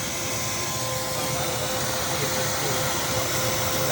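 A small Harbor Freight shop vac runs steadily close by, vacuuming out a van's coolant reservoir with an even, droning hiss and whine and no pauses.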